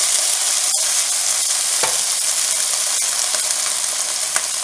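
Tomatoes and cashew nuts frying in a little hot oil in a pan for paneer butter masala: a loud, close, unbroken sizzle with scattered pops and a stir or two, no talking.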